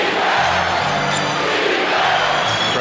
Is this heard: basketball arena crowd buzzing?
yes